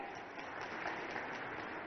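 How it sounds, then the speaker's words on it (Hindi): Crowd applause at a public government event in Gwalior, Madhya Pradesh, a steady dense clapping that fills the whole stretch at moderate level without breaks. "जोरदार ताली माननीय नरेंद्र मोदी जी के लिए बजाएं एक बार"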